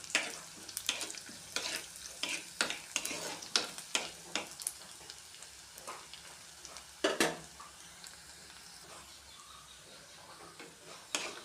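Chopped shallots, garlic, dried red chillies and curry leaves fry in hot oil with a gentle sizzle, as a spoon stirs and taps the pan in quick bursts of clicks, heard close and without any speech.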